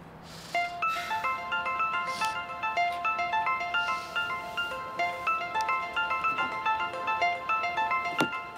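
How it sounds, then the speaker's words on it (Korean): A mobile phone rings with a bright, repeating electronic melody, clear and fairly close, playing steadily for several seconds with no talk over it. "전화 왔어."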